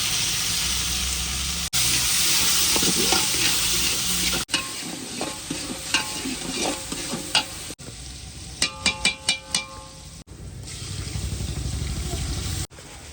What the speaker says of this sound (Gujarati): રાઈ, ધાણા જીરું, લસણ, ડુંગળી અને ફાઇનલી ટમેટા નાખી દીધા.